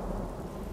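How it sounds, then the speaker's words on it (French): Thunderstorm in the video game Skyrim, a brief low rumble of thunder under steady rain, dense and continuous, with no voices. "l'orage."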